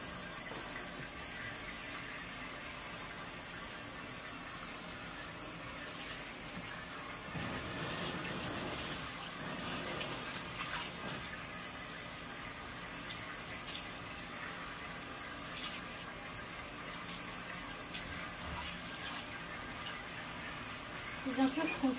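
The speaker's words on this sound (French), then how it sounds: "on va passer au rinçage et après on aura fini" Water runs in a steady, soft rushing spray while curly hair is rinsed during a hair care routine, continuing at an even level for the whole stretch, with brief splashy shifts midway.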